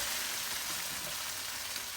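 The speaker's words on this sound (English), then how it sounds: "That's frying away beautifully." Quiet, steady crackling sizzle of soya chunk curry with potatoes frying in a pan, continuous and even throughout.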